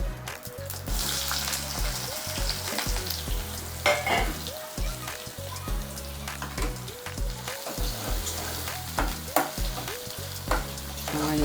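Onion frying in hot oil with mustard seeds, being stirred for a fish egg fry: a dense, steady crackling sizzle with stir-scrapes, close and continuous with no talk.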